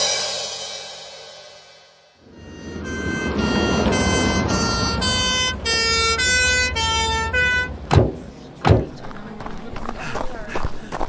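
A wailing emergency siren rises and falls loudly for several seconds, followed by a couple of sharp thumps and commotion.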